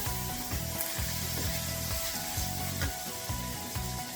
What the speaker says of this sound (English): Stir to mix it in.